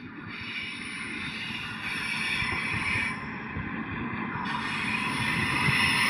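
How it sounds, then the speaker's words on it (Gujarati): A lone train locomotive with no carriages idles with a low, steady rumble and a hiss, fairly close, with no talking. "ટ્રેન આવી હતી એટલે ટ્રેનનો પણ ઇન્જિન જ છે ખાલી"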